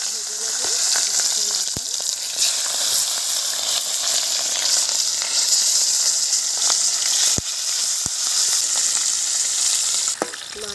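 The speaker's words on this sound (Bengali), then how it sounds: "মাথাগুলোকে আমি প্রথমে ভেজে নেব।" Rohu fish heads fry in hot oil in a wok, giving a steady, loud sizzling crackle with a few sharp pops and spatters throughout.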